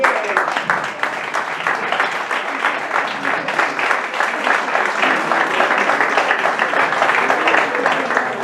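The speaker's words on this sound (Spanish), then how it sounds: "Un fuerte aplauso para Alfredo Azabal." Warm, sustained applause from a seated audience at a poetry event, steady dense clapping filling the room without a break for several seconds, no talk rising above it.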